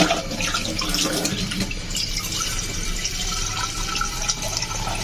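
Water runs steadily from a tap into a pot, a continuous close splashing gush that fills the whole stretch without a break and with no voices.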